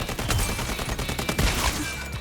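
Rapid gunfire from the Dynasty rifle fitted with a scope in the video game Highguard, a dense, fast string of loud shots rattling continuously with no pause, up close and without talking.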